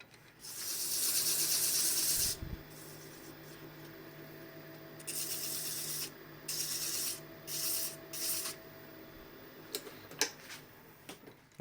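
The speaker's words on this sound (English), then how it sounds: "what I like to do is sand the edges so they're not sharp." Hand sanding of a craft piece's edges gives several bursts of raspy, hissing rubbing strokes, one long pass followed by shorter ones, fairly close, with no talk.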